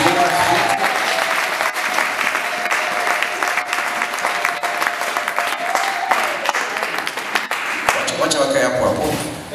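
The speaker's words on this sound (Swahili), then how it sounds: "Jamani, makofi kwa mtumishi wa Mungu" Applause for a servant of God at a church general assembly in Dodoma: a crowd claps steadily and loudly for several seconds, with voices and talking mixed in near the end.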